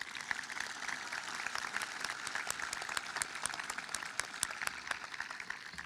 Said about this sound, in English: Big round of applause for those people.